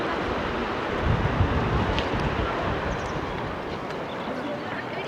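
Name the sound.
wind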